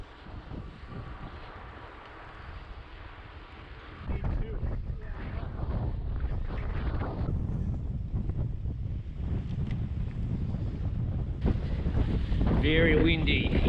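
A strong headwind roars over the microphone while riding due east on a long road ride, a steady loud buffeting rumble that grows heavier partway through.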